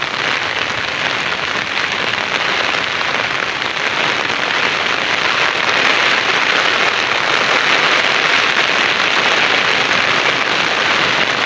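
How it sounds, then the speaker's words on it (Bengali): Heavy rain pours down in a rural village with ducks and water nearby. The loud, dense, even hiss holds steady and close for the whole stretch, with no voices. "প্রচুর পরিমাণ বৃষ্টি হতেছে"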